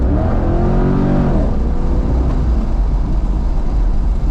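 A 2000 Chevrolet Corvette C5 engine roars loudly at full throttle, its pitch sweeping upward before settling into a sustained heavy rumble, close and constant with no talking.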